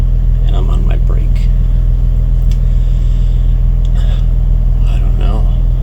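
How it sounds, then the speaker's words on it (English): A loud truck engine idles close by, a steady low rumble running unbroken through the whole stretch, with faint whispered talk over it. "he's sleeping next to me, but his truck is super loud"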